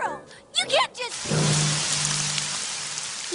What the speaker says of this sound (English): It's not supposed to rain until tomorrow.